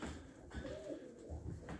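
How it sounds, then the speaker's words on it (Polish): Racing pigeons coo softly in their loft after returning from a flight, a low, continuous murmur of calls against a steady background. "Dzisiaj doleciały gołąbki, teraz liczyłem."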